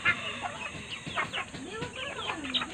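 Backyard chickens cluck and squawk in short, irregular bursts nearby, with a few higher calls mixed in and faint human voices in the background.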